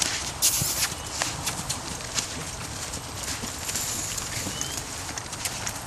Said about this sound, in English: I'm going to let him out on the lead rope a little bit, let him pick up a little bit of a canter